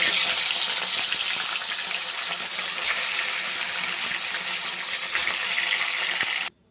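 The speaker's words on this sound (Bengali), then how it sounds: "এবার বাদ বাকি মাছগুলো দিয়ে দিলাম, এগুলো ভেজে নিই" Fish frying in a pan of oil, a steady close hiss and crackle that runs unbroken for several seconds before cutting off abruptly.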